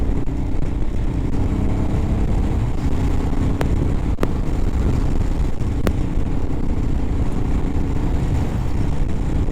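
Honda XR650L motorcycle engine running, a constant loud low rumble with a few sharp clicks, steady throughout.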